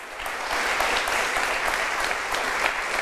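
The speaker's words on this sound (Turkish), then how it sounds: "Sibel Hanım'a bir kocaman alkış ki inlesin burası" Studio audience on a Turkish word game show, Kelime Oyunu, breaking into loud, thick applause for a contestant, a sustained crackle of many hands clapping at an even intensity throughout.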